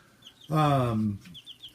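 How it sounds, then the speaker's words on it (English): A hen lets out a drawn-out, nasal squawk up close, with soft chirping birds in the background. "Yes, they're chickens."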